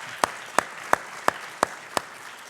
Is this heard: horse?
no